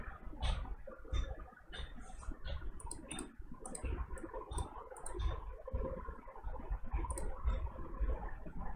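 Computer mouse buttons click in quick irregular bursts over a dull, muffled background while a web page is opened in Chrome.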